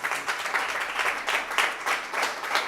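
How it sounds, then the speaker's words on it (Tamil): An audience applauds India's cricket win: a crowd claps together in a warm, steady burst with a gently pulsing rhythm, at a moderate distance and without talking. "கைத்தட்டலாம் இந்தியாவுக்கு."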